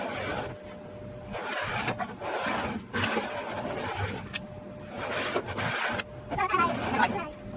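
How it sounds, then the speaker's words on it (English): A child scoots a high chair across the floor indoors, making repeated scraping and rubbing bursts in uneven pulses, with people talking throughout. "scooting his high chair around"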